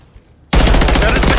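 After a near-silent moment, a sudden loud burst of rapid automatic gunfire erupts in a hardcore multiplayer shooter match, sustained and close for about a second.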